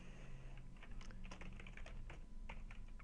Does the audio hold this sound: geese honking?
no